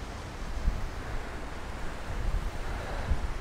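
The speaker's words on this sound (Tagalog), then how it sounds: "So mahangin ngayon." Steady wind roaring across an open area in Old Jaffa, Tel Aviv, a broad continuous rush with gusty swells, no voices.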